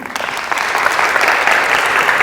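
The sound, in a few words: applause for the chapel speaker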